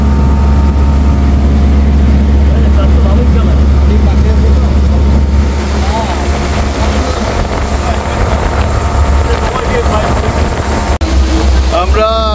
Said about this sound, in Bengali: এখন আমাদের স্পিডবোটের পাইলটের দায়িত্ব পালন করছে নুহুর